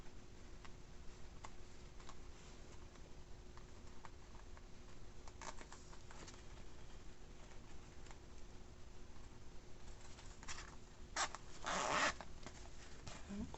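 A zipper slider pulled along the teeth of a zipper being fitted to a homemade fabric mask case, mostly faint small ticks and scrapes, then a louder rasping pass near the end.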